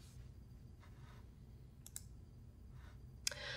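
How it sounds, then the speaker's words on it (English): A single mouse click sounds faint and close, a short sharp tick against a quiet background hum, with a few soft scattered clicks before it. "What happens if we kill the parent process, though, by clicking on the X button?"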